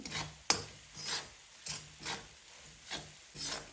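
A spoon scrapes and stirs ground spices with turmeric in a pan, giving soft, rhythmic rasping strokes about every half second, close and quiet, with one sharper knock early on.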